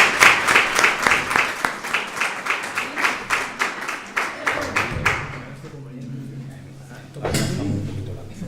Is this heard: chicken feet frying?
no